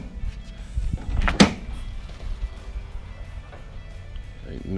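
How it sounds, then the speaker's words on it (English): A pickup truck tailgate fitted with a Dee Zee DZ43301 piston assist closes with one soft, damped thunk partway through, followed by low mechanical rumble and faint background noise. "No more slamming of the tailgate."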